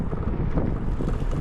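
Strong wind buffets an Insta360 Ace Pro action camera during a sunny city bike ride in Berlin, a continuous low, blustery roar filling the short stretch without any voices.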